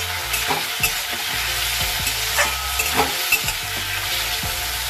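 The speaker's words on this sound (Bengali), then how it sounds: "আর আলু ভাজা চলছে" Potatoes frying in a pan, a steady broadband sizzle throughout with repeated scraping and stirring clatters of a spatula against the pan, close and fairly loud with no talk.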